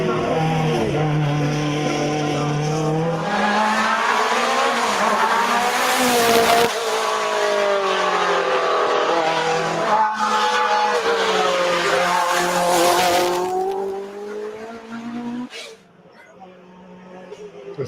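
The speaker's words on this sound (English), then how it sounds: "on four-wheel drive, you're going to hear more squeaks" A race car engine revs and drones with pitch rising and falling, tires squealing at times, and a voice talking over it near the end.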